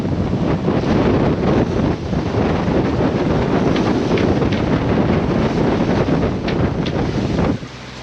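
A steady, roaring headwind of 18 knots buffets a sailboat beating through choppy water in the Strait of Messina, loud and continuous with wave slaps, then drops away abruptly near the end.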